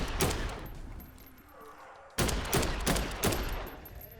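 Gunfire from a weapon in the zombie game Dead Island 2: a loud burst of shots, a pause, then a rapid string of close, sharp reports.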